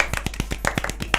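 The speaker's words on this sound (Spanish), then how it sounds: "Aplausos." A small burst of applause from a few people: about a dozen distinct hand claps at an uneven, quick rhythm, close and fairly loud over a low hum.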